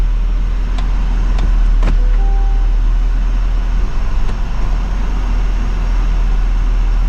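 Steady low engine rumble of a 2024 Chevrolet Silverado High Country Duramax diesel pickup truck driving, loud and constant, with a few faint clicks and squeaks early on.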